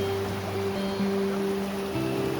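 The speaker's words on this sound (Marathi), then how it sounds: "पाण्यातनं झरा आहे" A mountain stream flows during heavy rain on the Bhimashankar trek through Ganesh Ghat, giving an even, rushing wash of water with a low steady hum beneath it and no talk.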